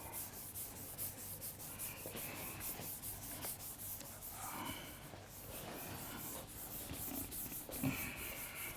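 A blackboard eraser rubs back and forth across the board in a long run of steady, rhythmic scrubbing strokes, fairly close and moderately quiet, with no talk over it.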